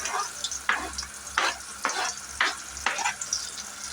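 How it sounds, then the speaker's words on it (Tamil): Onions fry with mustard seeds in oil, a soft continuous sizzle broken by about six regular scraping stirs of a spoon in the pan, close and without talk. "அதுக்காக ஆயில் விட்டு கடுகு போட்டுக்கலாம். வெங்காயம் ஆட் பண்ணிக்கலாம்."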